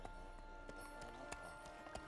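Horse hooves clip-clopping at a steady walking rhythm in The Witcher 3: Wild Hunt, faint and regular beneath a constant game ambience with no speech.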